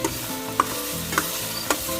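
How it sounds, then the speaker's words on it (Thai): Oil sizzles steadily in a small wok as luffa and egg noodles are stir-fried, while a utensil scrapes and taps the metal three times at an even pace, close and clear. "ต้องคอยคนมันจะติดกระทะ"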